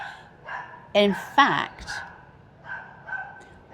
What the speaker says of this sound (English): what terribly barky dog